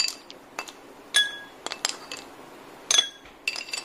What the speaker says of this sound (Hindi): अब इसमें आइस क्यूब डालेंगे